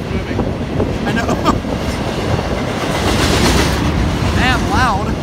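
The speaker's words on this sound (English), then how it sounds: "About the second train is going to start moving soon." An intermodal freight train rolls past close by, a loud continuous rumble of rail cars with rhythmic clickety-clack from the wheels and a brief squeal near the end, with people talking over it.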